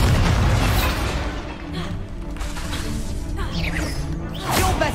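Confringo spell blast in Hogwarts Legacy, a loud sustained explosive roar with whooshing bursts and a fresh burst near the end, filling the whole stretch.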